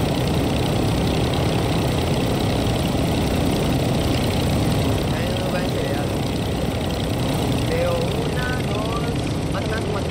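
A helicopter engine idles steadily in the video game DMZ, a loud continuous drone filling the whole stretch with faint intermittent chirps over it.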